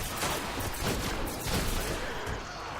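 Rapid gunfire in the Destiny video game, with revolver, sniper and shotgun shots in a dense, crackling burst of overlapping blasts that keeps going for a few seconds, loud and close.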